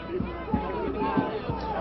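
Nearly 200 protesters gather outside a political fundraiser, their crowd noise a steady murmur with a few thumping footfalls or impacts close by.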